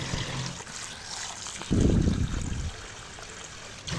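Taro corms (kochur mukhi) being rinsed by hand in a bowl of water, with a steady trickling wash and a louder splashing swirl in the middle, close and alone with no talk.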